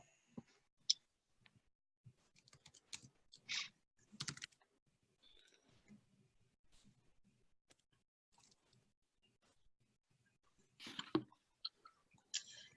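Computer mouse clicks and light keyboard taps, scattered sharp ticks in irregular clusters, near and quiet, with a brief louder burst toward the end.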